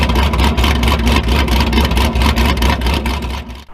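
A Camaro ZL1 with over 1,000 horsepower, run with open header exhaust, roars loudly and continuously up close, its engine note rough and pulsing before easing off at the end.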